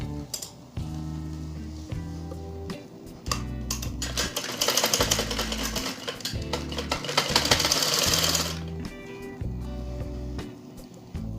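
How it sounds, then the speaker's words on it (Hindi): A sewing machine runs in bursts while stitching shalwar cloth, its rapid mechanical chatter starting and stopping several times, loud and close with faint room noise between runs. "अब आर्टसन की सिलाई लगाने का बताती हूँ कैसे लगाती हूँ। नीचे से लगानी शुरू करनी है।"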